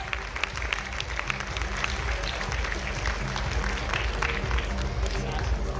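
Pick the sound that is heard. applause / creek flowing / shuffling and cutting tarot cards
applause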